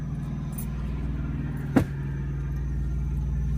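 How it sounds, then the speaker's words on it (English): An auxiliary power unit on a Prime semi truck hums steadily at a low, even drone, with a single short thump partway through and no talking. "you're gonna hear the APU just kicked on. You can hear it."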